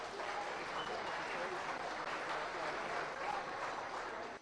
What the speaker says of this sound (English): I think they need a big round of applause for getting this far.